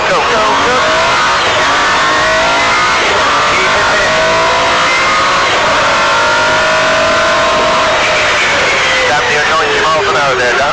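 MG Metro 6R4 rally car, its engine loud and close, revving and pulling hard throughout as the car slides through a turn, with a voice talking over it.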